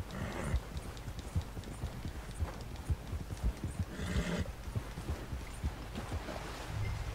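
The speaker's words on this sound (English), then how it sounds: "Ride the pony, meet with Charles." Horse hooves clip-clop steadily in a ride through Red Dead Redemption 2, a continuous trotting rhythm with occasional snorts and whinnies, close and moderately loud without talk.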